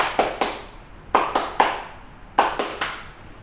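Sunday-school children at a church kids' service clap their hands in unison, a few sharp claps in a repeating pattern with short pauses between groups, close and fairly loud with no talking.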